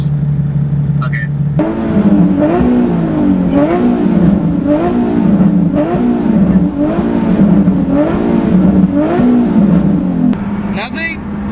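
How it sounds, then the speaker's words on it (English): Nissan 370Z engine revved repeatedly while the car rolls at about 60 mph, loud rhythmic rising-and-falling revs in quick succession, bracketed by steady engine drone. "I'm just gonna go to 60 miles per hour and I'm just gonna start revving."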